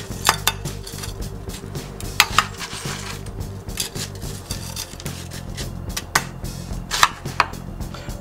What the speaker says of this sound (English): Finish capping it off with more ice. This will more than likely get messy because that's what happens with crushed ice.